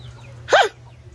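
A single short chicken squawk close by, rising and falling quickly, over a faint low hum, outdoors on a plot of land.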